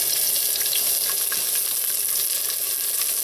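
Onion sautés in hot oil in a pot, giving a steady, close sizzle and crackle with faint stirring clicks and no talk.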